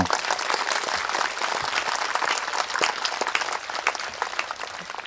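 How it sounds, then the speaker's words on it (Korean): Audience at a peace mass in Gangjeong applauding to welcome a retired Japanese bishop living in Okinawa, a sustained crowd of clapping hands, loud and dense, tapering slightly toward the end. "모두 박수로 환영해 주십시오"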